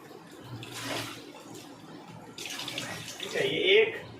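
Water pouring from an Enagic Kangen water ionizer, close splashing bursts into a container that start, pause and return louder, with someone talking over the flow.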